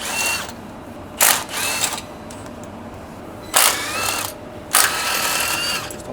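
Ratcheting socket wrench, 14mm socket, backing out 10mm sway bar bolts on a Toyota LandCruiser 200: three or four short bursts of close metallic clicking separated by pauses, over a quiet background.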